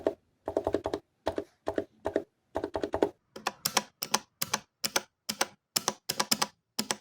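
Quick bursts of clicky button presses on a thin, light QRD Maestro S3 Bluetooth hitbox controller come in rapid clusters with short pauses, close and fairly crisp, with no voices.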